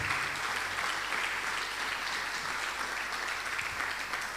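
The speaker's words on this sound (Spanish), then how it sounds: "Dale un aplauso al Señor" A church congregation applauds in a steady, even wash of clapping that sounds somewhat distant and soft, continuing without a break for several seconds.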